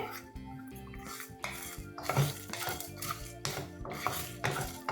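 Whole spices, coriander seeds, dried red chillies, peppercorns, fenugreek seeds and carom seeds, are dry-roasted in a pan and stirred with a metal utensil, giving repeated scraping clinks and rattles at an irregular rhythm, close but quiet.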